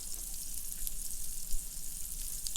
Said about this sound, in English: Yeah, that sizzle, man.